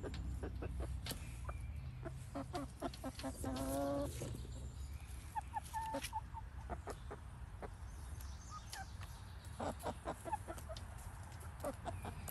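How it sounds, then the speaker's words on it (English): Faint farmyard chicken clucking and short bird calls, with one brief rooster crowing-like call partway through, over quiet background noise. "I think one of our chickens is actually a rooster?"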